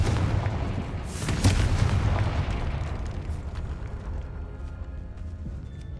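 Loud explosive blast from the Confringo spell in Hogwarts Legacy, a heavy booming burst with a crackling rumble that peaks early and then slowly fades into a lower, diminishing roar.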